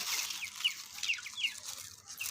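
Young chickens being fed make a flurry of thin, high peeping calls, several short chirps repeating close by with no talking.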